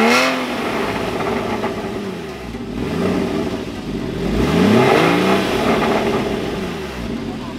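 A Porsche GT4 sports car engine revs up and down in repeated swells, loud and close, each rise followed by a falling drone.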